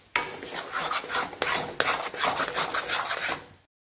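Gritty scraping and rasping of a spoon stirring amla (Indian gooseberry) in ghee in a pan for amla halwa, steady and close, with a couple of sharper scrapes.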